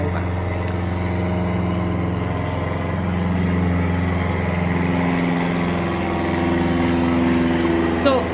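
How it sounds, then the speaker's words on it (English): An airplane flying overhead makes a steady, loud, low droning hum that holds throughout, with slight swells and no break. "There's an airplane flying over."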